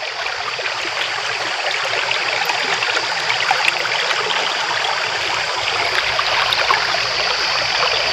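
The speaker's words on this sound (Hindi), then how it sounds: "पानी कितना अच्छा बह रहा है।" River water flows in a constant, close rush of bright, bubbling current, steady and fairly loud throughout, with no voices.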